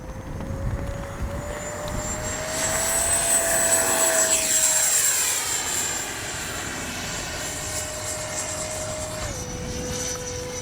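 Freewing F-16 70mm electric ducted-fan RC jet passing overhead in flight, a steady high-pitched whine that swells and shifts pitch as it flies by, fairly distant and alone with no talk.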